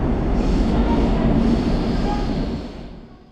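Seoul subway train running from Myeongdong station: a loud, steady rumble of wheels and carriage noise filling the space, easing off toward the end.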